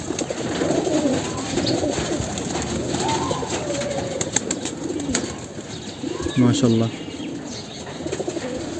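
A female pigeon coos in a loft among other birds, with soft chirps and wing flutters, while a person speaks over the cooing.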